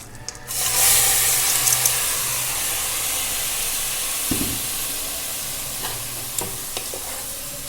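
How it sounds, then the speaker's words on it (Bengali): Washed rice and lentils go into a hot pan for homemade baby cereal, setting off a sudden loud hiss that settles into a steady sizzle with a few scraping stirs. "কড়াটা গরম হয়ে গেছে এবার আমি চাল আর ডালগুলো এর মধ্যে দিয়ে দেবো"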